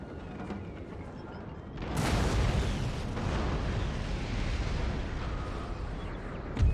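Artillery fire at cavalry in Napoleon: Total War: a heavy boom rolls in and leaves a long, rumbling roar of battle noise, with another low thump at the very end.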